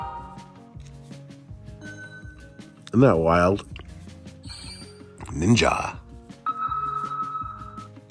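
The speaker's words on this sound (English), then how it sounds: "So here's some of the actual ringtones that you could have on this phone." Old BlackBerry phone ringtones play one after another in short bursts: bright electronic chimes and tonal melodies, with people talking quietly between them.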